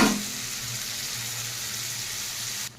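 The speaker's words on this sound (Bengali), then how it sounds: "আমি এবার মাছগুলোকে এক এক করে দিয়ে দিচ্ছি।" Pieces of catla fish go into a hot pan, giving a loud steady sizzle that starts at once and holds evenly before cutting off abruptly near the end, with no voices.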